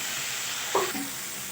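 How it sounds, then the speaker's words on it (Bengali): A spice paste for fish curry sizzles steadily in hot oil in a pan, with a brief scrape of stirring partway through. "মশলাটা আরও একটু ভালো করে আমি কষে নেব।"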